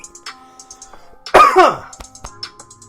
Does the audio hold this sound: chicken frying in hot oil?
no